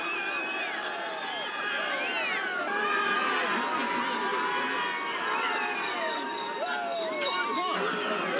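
Huge crowd of about 20,000 packed into Tullamore to welcome home the All-Ireland winning Offaly hurling team, a dense continuous roar of voices, whistles and cheering with a shrill, cat-like edge throughout.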